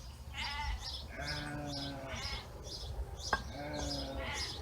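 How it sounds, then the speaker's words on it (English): Several sheep bleat repeatedly at moderate distance as they run in from pasture, overlapping calls rising and falling, with faint bird chirps in the background. "I don't know if you can see the sheep running in from pasture or not."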